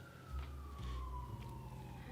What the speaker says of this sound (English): now the sirens are going off